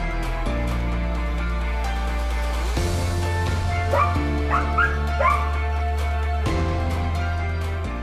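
A search dog barks, yips and whimpers repeatedly, near and loud, over a steady low droning hum.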